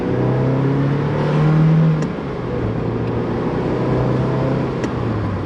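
A car cruising at about 45 mph, picked up by a rear-mounted GoPro microphone: a steady, loud road and engine drone with a low hum that swells briefly, then settles into an even rumble.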